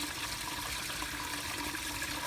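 Hose water rushing through a C4 Corvette radiator in a coolant flush, a steady, even hiss-like stream with no breaks, close by.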